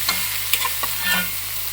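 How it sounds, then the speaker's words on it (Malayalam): Chicken is stirred in a pan with crushed roasted coconut and shallots, making a short burst of close scraping and soft sizzling. "പച്ചപ്പ് മാറാൻ വേണ്ടി ഒന്ന് നമുക്ക് ഇളക്കി കൊടുക്കാം"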